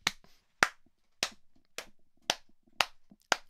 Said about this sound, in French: Là, j'applaudis.